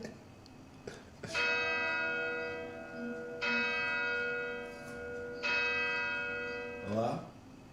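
A bell rings out in repeated, sustained strikes, each leaving a long shimmering decay, with three main tolls several seconds apart and a softer knock near the start.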